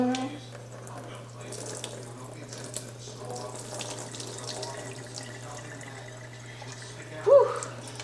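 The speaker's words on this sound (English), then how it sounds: "I put scalding hot water on my scalp." Hot water runs steadily from a tap while hair is rinsed over a sink, a constant close splashing hiss with a brief louder vocal sound near the end.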